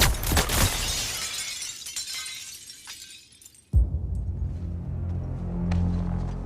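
Glass shatters loudly in Suicide Squad: Kill the Justice League, a big crash with scattering debris that fades, followed by a sudden low impact and a lingering rumble.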